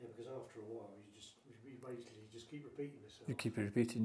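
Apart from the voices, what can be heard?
None of the usual background noises is heard.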